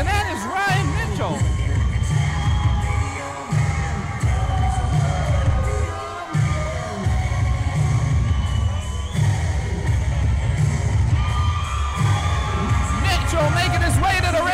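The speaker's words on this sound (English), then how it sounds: "can you hear this crowd?" Crowd at an RWA wrestling event cheering and roaring steadily through the whole stretch, a dense, loud wash of voices with scattered whoops and bangs as a wrestler heads to the ring.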